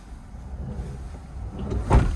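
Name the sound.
campervan door opening or closing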